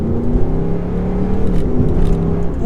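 A 2006 Mustang GT fitted with a cold air intake and tune accelerates. The engine makes a loud, steady, rising drone with intake whir heard from inside the car.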